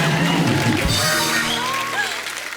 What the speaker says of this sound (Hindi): एक बार इस अनप्लैन्ड चाइल्ड के लिए जोरदार तालियां